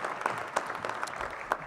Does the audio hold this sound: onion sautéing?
no